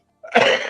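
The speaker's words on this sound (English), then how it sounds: "Excuse me, cough." A single short, harsh cough bursts out after a brief silence, close and fairly loud.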